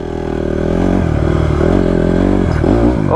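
Nick's Honda CRF150R dirt bike rides and revs hard through a hot desert, its engine loud and close with a steady roar that climbs and dips as the twitchy throttle snaps open and closed.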